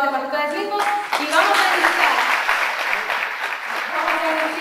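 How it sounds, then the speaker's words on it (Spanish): Graduation ceremony audience applauding in a hall, a sustained, dense wash of clapping that swells after a brief spoken line and continues steadily, with voices faintly mixed in. "Un aplauso nuevamente para ustedes mismos"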